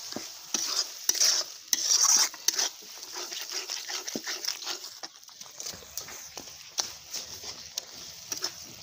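Chicken and potatoes sizzle in hot oil while a utensil stirs and scrapes the pan, producing close, irregular scraping strokes over a constant frying hiss, with no talking.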